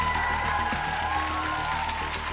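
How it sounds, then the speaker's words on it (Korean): Studio audience at a televised dance competition final applauding, a dense wash of crowd clapping blended with steady music tones, even in loudness across the moment. "여러분 박수를 부탁합니다."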